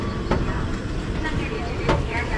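A train rolls past in Bangkok, a steady loud rumble of wagons with faint clatter throughout, with people talking nearby.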